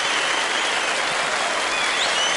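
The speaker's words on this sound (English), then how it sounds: "Give her a round of applause." An audience at a Gypsy Vanner horse anniversary celebration at an equestrian center in Ocala, Florida, claps steadily throughout, a dense, even wash of applause with no talking over it.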